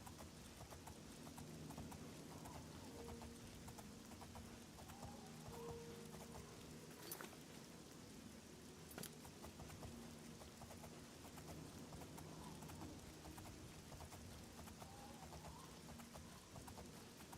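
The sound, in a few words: horse hooves clip-clopping, from a video game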